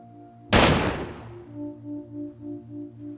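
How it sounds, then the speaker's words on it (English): A single loud gunshot cracks close by, its sharp blast decaying into a long reverberant tail, followed by a rhythmic pulsing hum and no voices. "a gunshot rings out"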